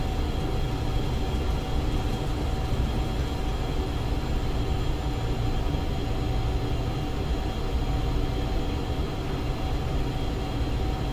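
Steady, loud cabin drone of a JF BAe 146-100 airliner in the X-Plane flight simulator, a constant broadband roar with a faint high whine running through it and no break or change across the whole stretch.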